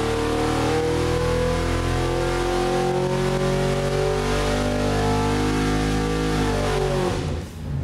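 A V8 engine with an 850 carburetor and boat headers revs hard on a dyno toward 6200 rpm, a loud, steady, close roar with rising harmonics that drops away sharply at the end.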